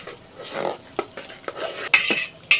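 Basanti polao rice with ghee is stirred in a pot with a metal spoon: a run of close, uneven scrapes and sharp clinks against the pot, over a soft sizzle.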